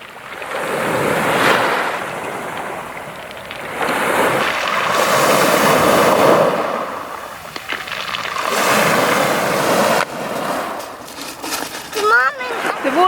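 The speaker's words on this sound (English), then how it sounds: "It's such a cool sound the rocks make when the waves go over them." Waves wash over and drag back through loose pebbles on a clear-water beach, a continuous rolling surf and rattle with rising and falling swells, while people talk nearby.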